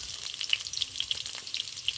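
Fried potatoes sizzle in a pan as ginger and cumin paste goes in, a close crackling hiss dotted with sharp spitting pops and soft scraping from stirring.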